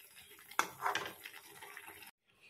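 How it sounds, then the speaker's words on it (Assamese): Hot water goes into a cooking pot of green chicken with a sudden splash, then a loud hiss and bubble that lasts about a second and a half before stopping abruptly, close up in a kitchen. "এয়া এতিয়া ছেকেণ্ড টাইম গৰম পানী ঢালিলোঁ"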